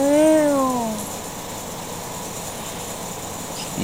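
A single cat meow, a rising-then-falling cry, opens the recording and then gives way to a quiet room with low background hum.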